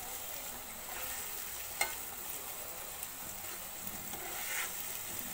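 Onion with ginger garlic paste sautés in a pan for a pork fry dish, a quiet, continuous sizzle with occasional soft stirring knocks and one sharper clink, and no voices.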